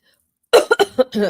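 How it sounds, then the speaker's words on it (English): A quick burst of several harsh coughs close to the microphone, one after another, ending in a throaty rasp after a moment of silence. "I drank the water and it's like gave me a coughing fit"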